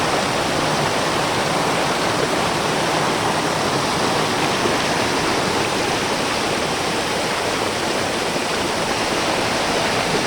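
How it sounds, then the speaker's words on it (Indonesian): A clear river stream flows at the Manikmoyo waterfall, a loud, dense and unbroken rushing roar of water that stays constant throughout, close by and with no voices. "Ini aliran sungai yang tampak indah."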